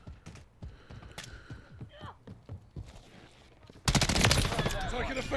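Rapid automatic gunfire from an M13B assault rifle in a 6v6 online shooter match, a loud dense burst of shots arriving in the last second and a half after quieter game sounds and scattered clicks.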